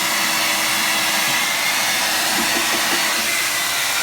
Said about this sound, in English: that's putting out some serious wind. And on top of that, it's turbo.